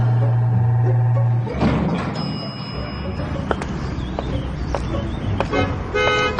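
A car horn sounds in a sustained honk, then gives way to thuds and short sharp noises nearby.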